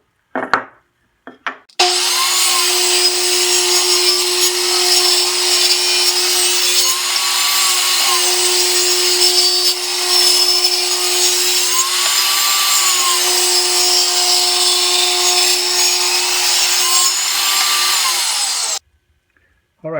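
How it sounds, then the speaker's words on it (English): A power saw rips 2x4 boards lengthwise into half-inch-thick slats for a shoe rack, a loud steady cutting whine that runs without a break for about seventeen seconds, with short knocks before and after. "now I'm just going to rip them to a 1/2 inch thick."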